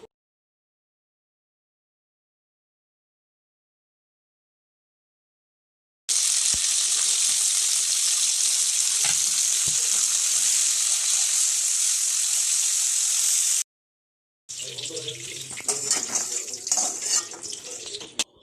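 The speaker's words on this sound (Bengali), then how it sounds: "কড়াইয়ে সাদা তেল দিয়ে কড়াইয়ের আঁচটা লো টু মিডিয়াম ফ্লেমে রেখে কুচনো পেঁয়াজ এবং ক্যাপসিকামগুলো ভেজে নিতে হবে" Chopped onion and capsicum fry in white oil in a wok over low to medium flame. A strong, even hiss starts after several seconds of silence, stops briefly, then returns rougher and more uneven.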